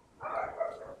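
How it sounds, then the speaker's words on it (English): Dogs bark somewhere in the background, a single muffled, fairly faint bark of about one second, heard alone with no talk over it. "Sorry for the dogs if you hear them in the back."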